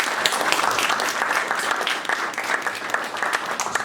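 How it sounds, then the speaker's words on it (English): Steady applause for boxer Natasha Jonas, dense clapping from a sizeable audience holding an even level for the whole stretch, with no clear voices standing out. "I think a round of applause for Natasha and everything that she's done for the sport."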